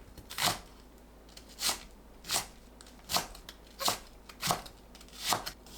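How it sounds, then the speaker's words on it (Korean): A knife chops green onion into 5 cm strips on a cutting board, about eight crisp, evenly spaced strokes landing roughly once every second, close and clear with quiet gaps between them. "파를 5cm 길이로 채 썰어줍니다."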